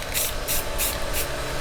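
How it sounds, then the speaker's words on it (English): Spray can paint hissing onto a thrifted lamp on a table, four even bursts in a steady rhythm, close and fairly loud with no talking. "I'm just going to start spraying"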